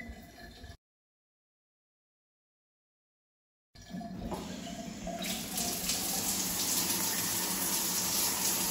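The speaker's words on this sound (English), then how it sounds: "But this is our rain head right here." Kohler rain shower head: after a short silence, water begins pouring and builds into a steady, loud hiss of falling spray that continues to the end.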